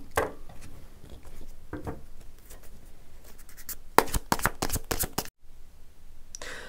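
Tarot cards shuffled and drawn, soft scattered riffling and tapping followed by a quick burst of crisp card flicks, then quiet handling.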